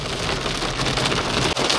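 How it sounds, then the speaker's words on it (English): Hail pours down steadily on a high mountain peak in Andorra. It makes a dense, loud, continuous hiss and patter with no gaps, and no voices are heard. "quite a lot of hail"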